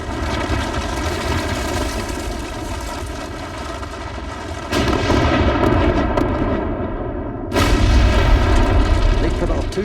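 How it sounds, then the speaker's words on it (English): Two gunshots go off close by in West Virginia coal country, each a heavy booming blast a few seconds apart over a constant droning background. "Two shots just over here from us."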